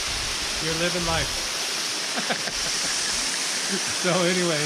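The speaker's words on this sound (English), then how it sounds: "just wanted to show you guys this waterfall we came across." A waterfall gives a steady broadband rush that runs through the whole clip beneath someone talking close by.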